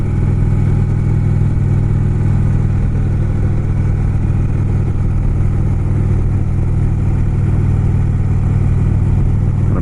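Steady, loud motorcycle engine drone while riding along the Kancamagus Highway in rural New Hampshire beside a rocky river, constant and unbroken, with no voices.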